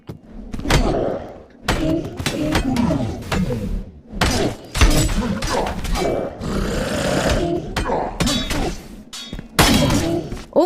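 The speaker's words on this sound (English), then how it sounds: "Oh, I just broke off his armor." Armor shattering off a boss during a melee fight in the VR game Battle Talent, with repeated loud crunching impacts and breaking hits over steady combat noise.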